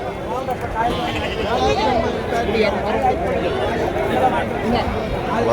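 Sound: native goat kids bleating at Krishnagiri goat market

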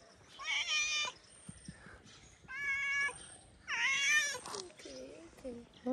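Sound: cat meowing

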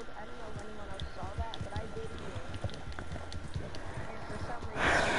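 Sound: horse hooves clip-clopping, from the video game Red Dead

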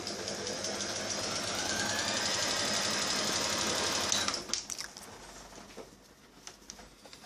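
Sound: Brother Mimollet B894 sewing machine stitching

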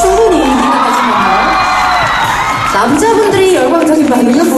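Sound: audience cheering at award ceremony

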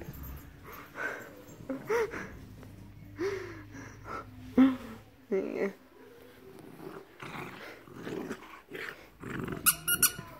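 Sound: puppies playing and growling

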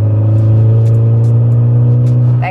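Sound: car accelerating with turbo sound

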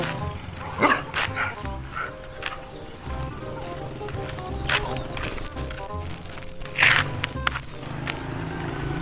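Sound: dog barking

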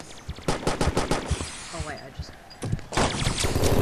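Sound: shotgun blast in video game Boring Man

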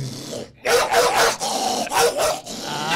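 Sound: boy imitating a barking dog

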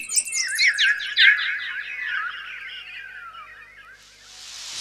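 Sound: birds singing sweetly by the Yamuna

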